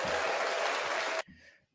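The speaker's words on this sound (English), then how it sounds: "A bit of applause there." A short burst of applause from a small group at an awards event, dense and fairly loud for about a second before cutting off abruptly, followed by faint murmur.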